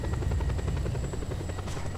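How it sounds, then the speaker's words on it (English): Close helicopter in the video game Just Cause 2, a large, heavily armed rocket helicopter whose rapid rotor thumping pulses steadily over a constant low engine drone. "Oh yeah, this is one of the best helicopters."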